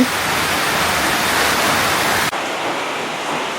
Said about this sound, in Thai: โอ้ฝนตกช่วงเย็น ทั้งลมทั้งฝน